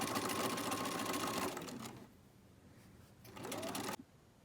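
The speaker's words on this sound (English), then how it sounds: "I'm going to batch sew this with the other side." A sewing machine stitches fabric in a steady, fast whirring run, stops, then starts again with a shorter burst of stitching.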